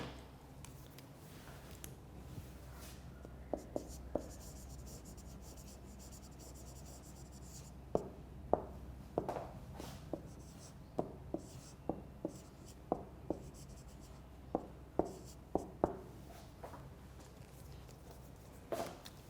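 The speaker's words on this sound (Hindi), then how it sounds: "इधर लिख भी देता हूँ।" Marker or chalk strokes tap and squeak on a classroom board in a lecture, a series of short sharp strokes in irregular bursts over a low steady room hum, with no talk.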